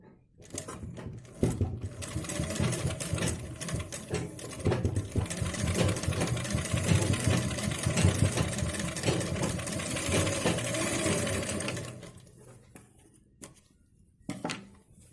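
A sewing machine stitches a lace triangle onto a blouse neck, whirring steadily and close for about ten seconds after a few short starts, then stopping with a brief final burst.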